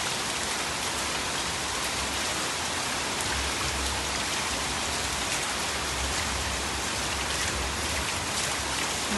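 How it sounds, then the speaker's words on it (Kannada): Heavy rain pours steadily in Bangalore, a dense continuous roar of drops on surfaces with running water, loud and unbroken throughout with no talk. "ಅಂತೂ ಇಂತೂ ಕೊನೆಗೂ ನಮ್ಮ ಬೆಂಗಳೂರಿಗೆ ಮಳೆ ಬಂದೇ ಬಿಡ್ತು ನೋಡಿ"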